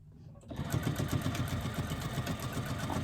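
A sewing machine stitches a 3/8 inch seam, starting after a brief quiet moment and running steadily with a fast, even needle rhythm, fairly close and alone.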